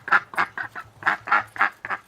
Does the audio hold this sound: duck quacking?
yes